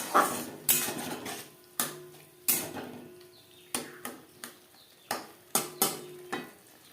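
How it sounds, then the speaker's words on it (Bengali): Spice paste with garlic is stirred and fried in a pan over a low-to-medium flame, a spoon giving a run of faint, fairly regular clinks and scrapes against the metal. "লো টু মিডিয়াম ফ্লেমে তিন চার মিনিট মশলা বেশ ভালো করে কষিয়ে নেব"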